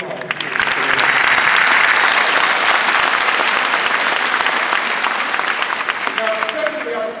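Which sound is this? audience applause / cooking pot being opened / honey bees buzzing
audience applause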